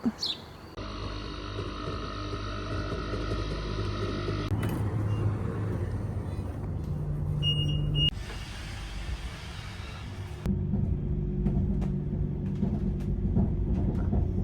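Steady low rumble and hum inside a Swiss train, with a few abrupt shifts in the drone as the ride continues; no talking.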